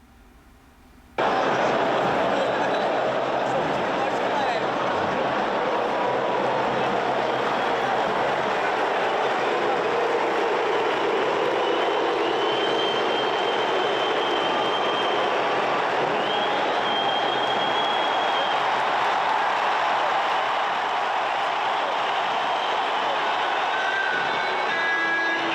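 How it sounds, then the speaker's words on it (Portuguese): Flamengo football supporters fill a stadium with a sustained, loud crowd roar that mixes booing at Pedro with applause for Gabigol as he comes on, a dense wall of noise lasting the whole stretch after a brief quiet start. "Nós temos uma imagem com som, que é o mais importante, da torcida do Flamengo, vaiando o Pedro, quando sai o Pedro, e aplaudindo o Gabigol"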